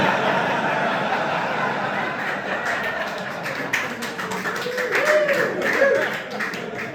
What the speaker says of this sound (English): This is the only room that joke has ever gotten an applause